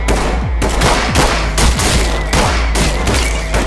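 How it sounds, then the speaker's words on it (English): A heavy shootout in the tactical game Ready or Not, with loud, close bursts of rapid gunfire in several sharp volleys and short gaps between them. "Brian, you're in one hell of a shootout"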